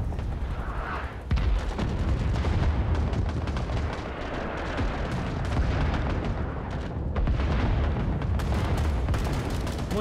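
Dense gunfire and booming artillery from the video game Rising Storm 2: Vietnam, a loud continuous barrage of shots and blasts with heavy low rumble, sharp cracks cutting through near the start and end.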